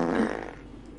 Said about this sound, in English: did she actually fart, or was that just a sound effect?